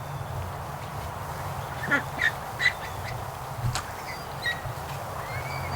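Young ducks kept in a farm barn give a few short, scattered quacks at moderate distance over a low steady hum, with quiet gaps between the calls.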